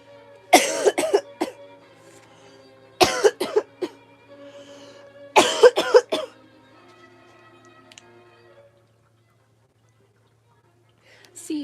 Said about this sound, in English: it's nifty that I actually have a cough right now